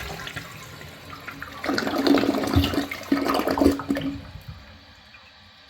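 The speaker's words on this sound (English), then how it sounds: "Let's have a look at bowl rinse." Eljer Patriot second-generation toilet flushing and rinsing the bowl: a surging rush of swirling water that builds, holds for a couple of seconds, then drains away to a quieter trickle, with no talking.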